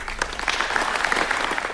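Dense applause with some cheering from parents in a school gymnasium at a completion ceremony for welding and HVAC students, a steady clapping crowd close by.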